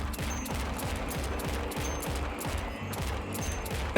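Rapid repeated gunshots in the first-person shooter Project Warlock 2 fire in a steady rhythmic stream, roughly two or three shots per second, loud and close with no talking over them.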